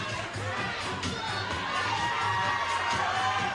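A standing-room-only crowd at a CrossFit Open competition in Bellevue cheers and shouts continuously, a dense roar of voices filling the space.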